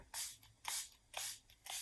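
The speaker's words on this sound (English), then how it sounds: "I do have the Milani Make It Last setting spray. I like the sprayer on this." A Milani Make It Last setting spray bottle gives four quick fine mist bursts in a steady rhythm, close and soft with no talking.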